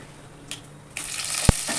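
Onions sizzling in hot oil, a crackling hiss that swells partway through, with a brief clatter of a utensil against the pan.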